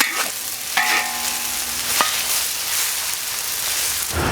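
Vegetables tossed in hot oil in a wok make a steady, close frying hiss, with a couple of distinct metallic spatula clanks early on and softer stirring scrapes after.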